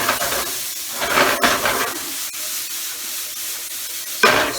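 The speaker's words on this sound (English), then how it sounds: "Now that we got the boil going" A pan of maple red wine demi-glace sauce at a rolling boil, with steady bubbling and steamy hissing that stays close and continuous, a few sharper pops and spits breaking through.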